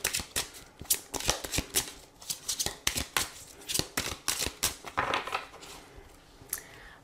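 Tarot cards shuffled by hand for a reading, a close, steady run of crisp riffling and flapping card sounds in quick bursts with no talking.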